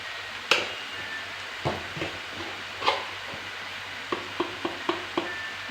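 Onions finish frying in a pan as spices and salt go in for besan bhindi, giving a soft continuous sizzle broken by a run of short taps and scrapes from stirring.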